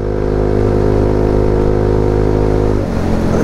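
An ItalJet Dragster 200 scooter pulls hard under acceleration, its engine a loud, close, buzzing drone that climbs steadily before the tone breaks and drops sharply near the end, with no voices.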